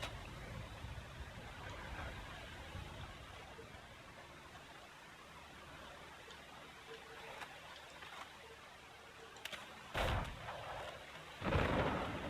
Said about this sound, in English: the storm is finally passing